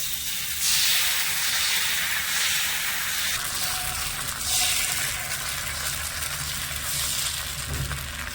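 Rice batter for neer dosa hisses and sizzles on a hot pan, a broad, steady, close steamy wash of sound with gentle swells and no voices.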